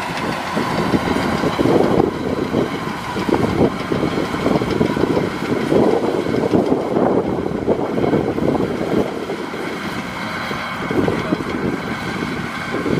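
A Kubota DC 93 rice combine harvester running in a Madiun paddy field: a loud, steady rumbling engine with rough mechanical churning and wind buffeting, continuous throughout.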